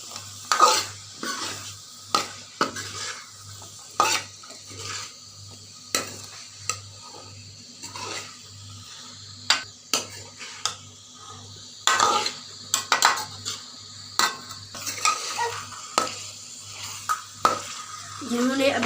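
Carrots being stirred in a cooking pot, a spoon scraping and clinking against the metal in a steady rhythm of repeated strokes, with a low sizzle of frying underneath, close and fairly quiet.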